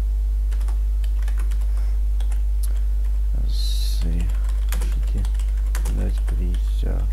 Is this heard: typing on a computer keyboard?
yes